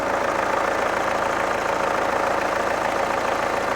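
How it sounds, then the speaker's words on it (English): A car's engine idles steadily, close and continuous, with an even low hum and faint mechanical ticking during a DSG transmission fluid change, with no voices over it. "Alright, the car is running, so I hope you can hear me."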